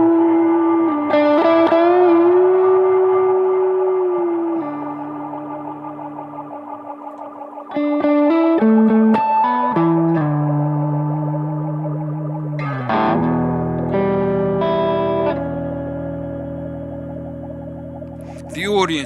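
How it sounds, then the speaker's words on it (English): Sustained, layered guitar tones from a BOSS GT-1000 looper drift and shift through heavy delay and modulation, building into a continuous effects-soaked loop with occasional bright plucked accents. "you've just used the looper in your GT1000 to help you play out the end of the song there"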